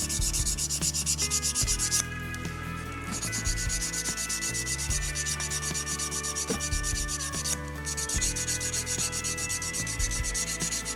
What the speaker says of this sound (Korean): 이렇게 사포로 이렇게 갈아주시다 보면